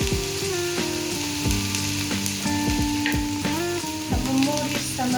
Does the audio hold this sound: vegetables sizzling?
yes